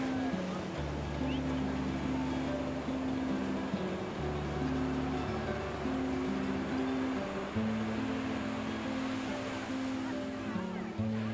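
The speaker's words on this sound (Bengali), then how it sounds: "মাঝে মাঝে ঢেউয়ের শব্দ আমাদেরকে শিহরণ জাগাচ্ছে।" Ocean surf on a beach in Odisha, a continuous low wash of waves rolling in under steady background noise, with a droning tonal hum running throughout.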